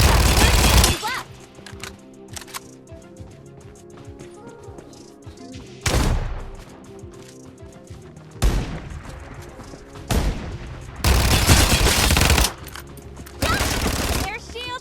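Gunfire crackles through a Farlight 84 battle royale match, with bursts of automatic shots and heavy volleys coming in irregular clusters over game music and effects.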